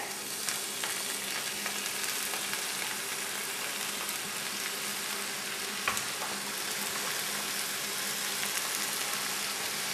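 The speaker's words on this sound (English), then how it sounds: "We're going to add our collard greens to the pan here." Collard greens crackle in a hot pan with a steady, even sizzle that carries on for the full stretch, close and moderate in level, with one brief clink partway through and no talk.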